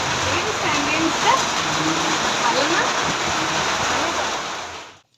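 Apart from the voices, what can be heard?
heavy rain pouring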